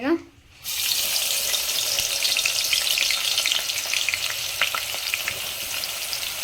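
Onions drop into hot oil for a village-style Telangana mutton curry and break into a loud, steady sizzle that carries on continuously, close up, with faint stirring clicks.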